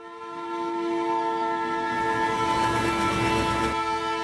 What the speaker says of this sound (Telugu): ఇప్పుడు ఒకటే గూడ్స్ ఉందిరా, అది కూడా వచ్చే టైం అయింది